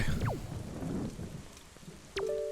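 Steady rain at night in Zelda Wind Waker HD, a soft patter under rumbling, with sweeping game tones gliding through and a sustained chime near the end.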